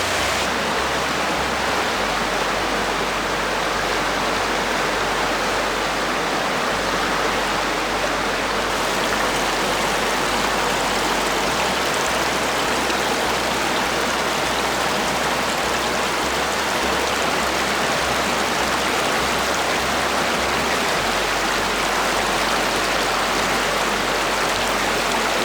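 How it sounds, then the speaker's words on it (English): A big creek flows in a wooded reserve, giving a steady, full rush of water that continues evenly and alone, without any talk. "it's this big giant creek over here"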